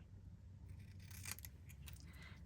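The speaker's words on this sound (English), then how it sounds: "we need a black triangle, just cut in half" Scissors snipping through a small black fabric triangle for a quilted cardinal card, a few quiet close crisp cuts over a low background hum, no talking.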